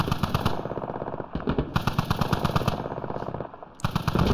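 Rapid automatic gunfire from the video game Squad, with dense bursts of close, loud shots running almost continuously and a brief lull near the end before firing resumes.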